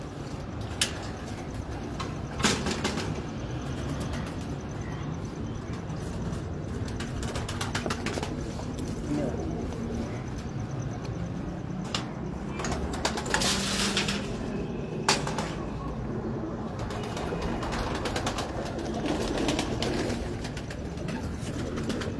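Pigeons in a Pakistani home loft cooing and shuffling, with soft wing flaps and scattered clicks, a steady busy murmur of birds close by and no talking.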